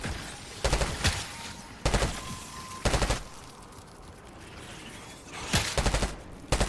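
Automatic gunfire in the shooter game Black Ops 6, with several short rapid bursts separated by quiet gaps and a longer double burst near the end, loud and close with no talking.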